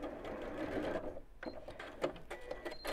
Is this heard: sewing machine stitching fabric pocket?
yes